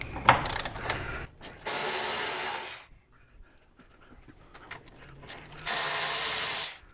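Torx 40 bolts holding down a tank are loosened with a ratchet during an engine bolt kit install, giving two sustained bursts of close, rapid ratcheting separated by quieter handling noise.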